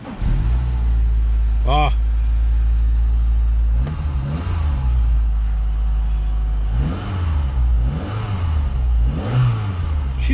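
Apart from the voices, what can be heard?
Citroën ZX Volcane car engine starting and revving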